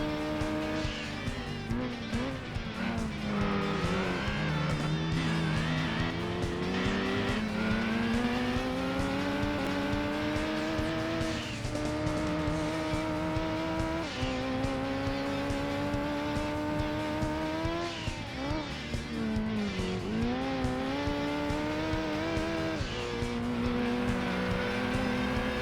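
A 400 PS Ford Focus rally car in Gran Turismo 2 on gravel rally stages, its engine revving hard and continuously with repeated pitch rises and drops through gear changes, tire squeal and skidding mixed in, loud and close.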